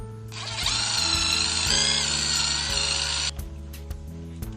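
A power drill whirs steadily for about three seconds with a scrubbing brush texture, then cuts off, leaving a low hum and faint clicks.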